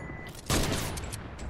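A single sharp sniper shot cracks out in a Fortnite match, followed by a dense, loud roll of further gunfire and in-game noise with no speech.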